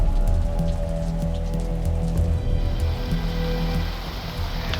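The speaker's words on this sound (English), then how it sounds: "It was raining and sleeting, and the wind was really cold" Steady rain pours down on a cold, windy day with sleet, a dense hiss of drops drumming on surfaces from start to end, with a low rumble beneath.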